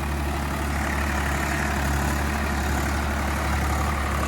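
A Swaraj tractor runs a rotavator under load, its engine holding a steady, loud, continuous low drone close by with no speech over it.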